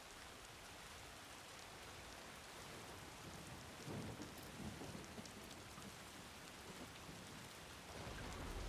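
Timefall rain pours steadily in the Death Stranding 2 video game, a dense, continuous wash of downpour with a few heavier swells and faint rumbling, and no voices.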